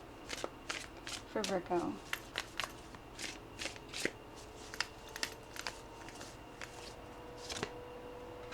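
Tarot cards being shuffled, a crisp riffle with soft papery flicks and taps spread across the moment, quiet and close while a person speaks briefly over it.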